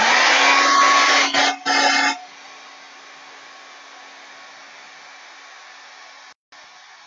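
A hair dryer blows steadily on flowers, loud and close for about two seconds with a brief dip, then switches to a much quieter low setting that hums on and cuts out briefly near the end.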